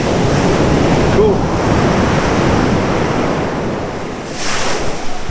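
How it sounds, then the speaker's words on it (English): Ocean surf roars steadily at Waimea Beach on Oahu's North Shore, a continuous loud wash of breaking waves with heavy wind buffeting the microphone. "the waves actually came all the way up there"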